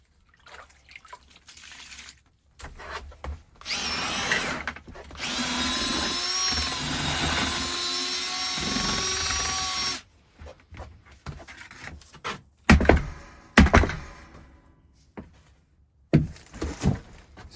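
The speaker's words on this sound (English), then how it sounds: "Since I am using a drill, you don't technically need 5 minutes of mixing." A power drill with a mixing paddle churns thinset tile mortar while tiling a fireproof wall behind a sauna wood stove. It whines loud and steady for about seven seconds, then gives short bursts and scraping knocks from the bucket.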